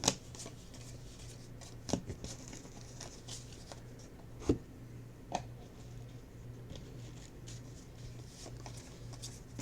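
Baseball cards being handled and sorted during a case break: soft continuous shuffling and sliding with occasional sharp taps and flicks, close and fairly quiet, with no talk.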